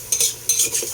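A utensil scrapes and stirs rice being sautéed in a cooking pot, two bright scraping strokes close up with no voices.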